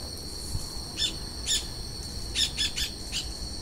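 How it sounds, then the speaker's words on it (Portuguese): A small bird chirps outdoors at night in brief, high, repeated calls, some in quick pairs, over a constant droning insect-like hum. "Opa, opa, passarinho de novo,"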